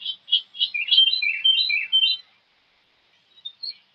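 Wild birds sing outdoors, a bright run of varied chirps and warbling phrases for about two seconds, then a pause before a couple of fainter, more distant tweets.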